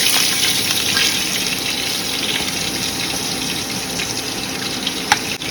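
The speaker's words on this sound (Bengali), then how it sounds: "এই যে মশলা দেওয়া হচ্ছে আমাদের" Spices sizzling in hot oil in a wok, a steady loud broadband hiss and crackle that continues throughout with no talk over it.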